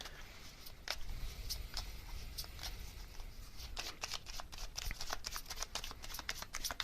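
Tarot cards are shuffled close by in quiet, repeated riffles and flicks, a soft, uneven rhythm of papery snaps that thickens toward the end, with no voices.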